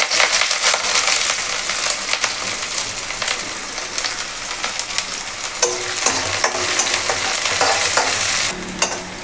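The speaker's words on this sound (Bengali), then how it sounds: "তেলটা গরম হয়েছে, তো এখন এটাতে দেওয়া দেবো পেঁয়াজ" Onions hitting hot oil for a mourala fish curry in a village kitchen, a loud continuous crackling sizzle with dense spitting and occasional stirring scrapes, close and steady throughout.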